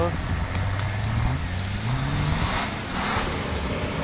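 A Nissan Patrol off-road vehicle revs its engine at an off-road event, a loud, steady motor drone with rising pitch sweeps, heard under people talking nearby.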